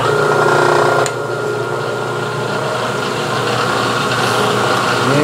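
A machine runs slowly while reaming holes in a carriage stop body in a metal shop. It makes a loud, continuous drone with a single sharp click near the start.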